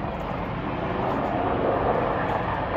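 A fixed-wing airplane takes off low along a runway on North Keppel Island, its steady broadband engine roar holding close and loud throughout.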